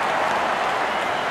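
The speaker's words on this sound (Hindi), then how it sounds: "दर्शक इस 50 रन को अपने तालियों से सराहते हुए" Cricket spectators applaud a batter's fifty in a match involving Scotland, with dense, steady clapping from a large crowd heard throughout at a fairly loud level.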